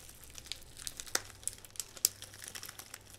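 A mail package being cut open at close range: soft crinkling and tearing of packaging with a few sharp clicks and snips, quiet and without talk.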